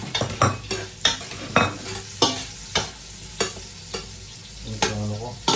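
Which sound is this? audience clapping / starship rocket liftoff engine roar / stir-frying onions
stir-frying onions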